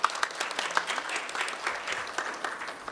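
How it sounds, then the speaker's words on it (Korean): A crowd applauds with steady, fairly loud clapping that continues evenly throughout, with no voices standing out, at a symposium welcoming a speaker. "큰 박수로 맞이해 주십시오"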